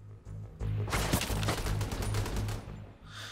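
Sustained gunfire in The Division 2: a dense, loud burst of rapid automatic shots lasting about two seconds, with a few scattered single shots around it and no talking.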